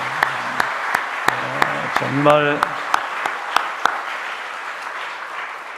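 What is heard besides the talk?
congregation applause in church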